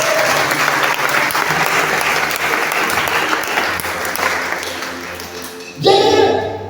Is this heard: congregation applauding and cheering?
yes